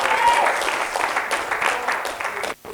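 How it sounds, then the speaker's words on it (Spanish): Congregation at a Spanish-language church sermon clapping together, a short burst of fairly close, even applause that cuts off abruptly near the end. "Denle un aplauso al Señor."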